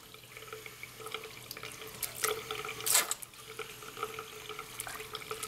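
Water runs from a tap into a lab sink while a plastic syringe is rinsed, a steady splashing stream with two brief louder gushes as it is flushed out.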